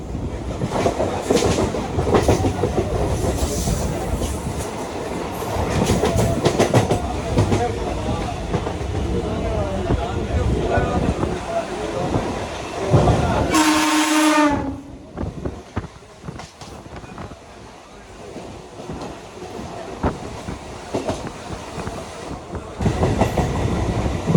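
A Bardhaman–Howrah chord line super local train rumbles steadily along the rails with rhythmic clatter, a brief high wheel squeal midway, and voices talking faintly over the noise.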